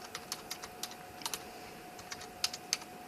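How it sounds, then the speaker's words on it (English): Fingers tap a keyboard in an airBaltic CS300 cockpit, typing a message into the ACARS system with light, irregular clicks over a steady electronic hum. "here's this ACARS system, and we are just writing Labrīt."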